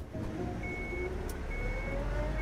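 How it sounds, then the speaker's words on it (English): A large truck engine in a video game idles with a low rumble while a steady electronic reversing beep repeats over it. "Crap, they started the engine."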